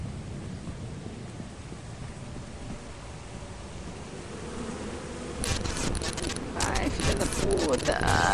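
Buzzing wasps in the horror game Lethal Company, a steady droning hum under a noisy background, joined later by sharper clattering and scuffling sounds.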